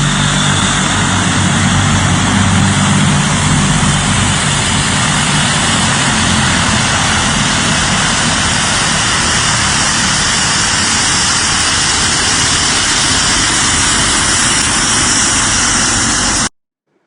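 Commercial airliner at Burgas Airport in Bulgaria, its engines giving a loud, steady roar and whine that holds constant, close and unbroken, for about sixteen seconds before cutting off abruptly.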